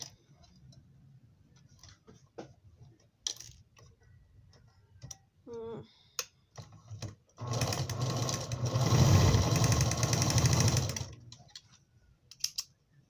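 A sewing machine stitches along a fabric edge in a steady, dense burst of rapid stitching for a few seconds, framed by scattered clicks and handling noises before and after.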